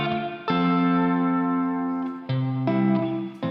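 Stacked guitar parts pass through a reverb plugin with no EQ, giving a fuller wash: long sustained chords hang for nearly two seconds, then quicker re-struck chords follow, loud and close, with a lingering reverberant tail.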